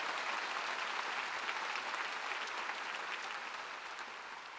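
A large congregation at a Jesus-Centered Church rally in a gymnastics stadium applauds in praise, a broad, continuous roar of clapping that stays dense and gradually softens toward the end.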